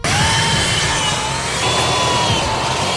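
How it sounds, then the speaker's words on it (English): A power drill whines steadily at close range, its pitch shifting slightly as it bores holes through a wooden trailer bed board, with no talking. "now we're gonna take the board off and drill all the holes and then bolt it up"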